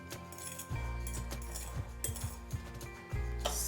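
Spoon clinking against a bowl while almond powder is mixed for a French galette des rois, a run of sharp clinks and scrapes over a steady hum, close and fairly loud.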